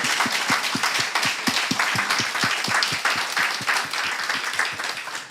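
Worshippers at a Friday church service clap together in a steady, rhythmic beat of sharp, evenly spaced claps, sustained throughout at moderate loudness with no voices over it.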